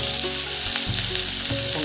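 Sliced onions fry in mustard oil, a dense continuous close sizzle with brief stirring scrapes and a faint steady hum underneath, no talking.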